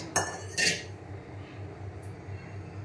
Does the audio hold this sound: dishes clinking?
yes